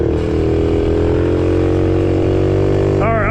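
A loud, steady ATV engine drone at full throttle close by, holding at high revs, with a rising whine briefly breaking in near the end.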